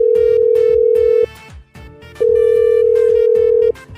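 A telephone call tone, made while placing a call, sounds as two long, loud, steady beeps separated by a short gap, close and clear, with faint background noise underneath.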